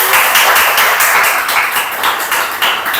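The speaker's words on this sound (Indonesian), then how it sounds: "tepuk tangan yang meriah" A church congregation at a Sunday service breaks into lively applause, many hands clapping in a dense, rhythmic wave that pulses evenly and stays loud throughout.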